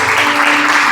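Church congregation applauding during worship, a dense, steady patter of many hands clapping close and loud for under a second, with a held musical tone underneath.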